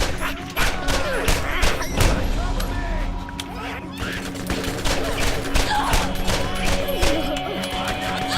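Handgun shots in the Borderlands video game, a string of sharp reports at irregular intervals mixed with thuds, with a voice talking over them.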